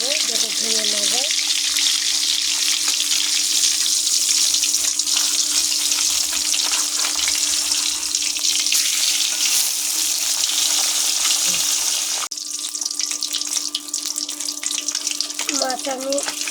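Kalbaus fish frying in a pan on an induction stove, a steady hiss and sizzle of oil running throughout, with a brief tonal whine and short clatter near the start and end.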